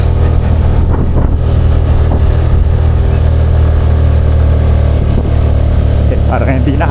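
A motorcycle engine labours steadily up a steep road, loud and close throughout, with wind buffeting the microphone and someone talking over the drone.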